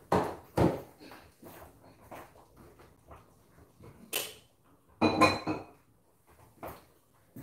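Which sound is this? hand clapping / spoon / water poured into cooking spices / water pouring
spoon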